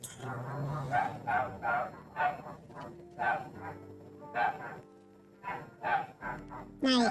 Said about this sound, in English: now you can hear baby dogs in the background.